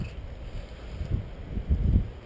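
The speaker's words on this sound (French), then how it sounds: "on a un peu le vent qui nous embête" Wind gusts buffet the microphone outdoors at a paraglider flying field, low blustery rumbles that swell and fade in pulses over a quiet background, with no talk.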